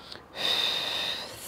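A single deep, audible breath taken during a Pilates exercise, a brief rushing exhale lasting about a second, close to the microphone and alone.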